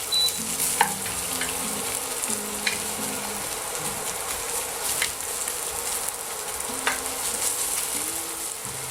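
Garlic with herbes de Provence frying gently in a pan for a chasseur sauce, a continuous crackling sizzle with occasional sharp spits and pops, close by and with no one speaking.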